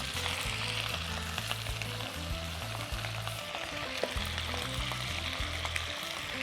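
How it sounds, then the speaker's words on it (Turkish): Rice crackers frying in hot oil, a steady close crackling sizzle with fine popping bubbles that runs evenly throughout, no talking. "Şimdi hemen pirinç ekmeklerimiz de kızarsın."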